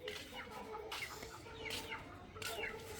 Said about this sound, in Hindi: खाना खा रहे हैं मुर्गे सारे।